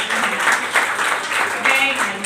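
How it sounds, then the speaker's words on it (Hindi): Applause from an audience at a Women's Day event after a performance by a group of girls, a steady broadband patter running through the whole span with voices mixed in. "इसके लिए जोरदार तालियां"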